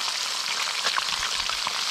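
Whole bream fish frying in a pan, a steady dense sizzle of hot oil running loud and unbroken throughout with small pops scattered through it, no voices.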